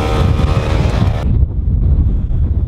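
Strong wind buffets the microphone outdoors in Oia, a loud, continuous low roar of gusts that fills the whole stretch, with no voices.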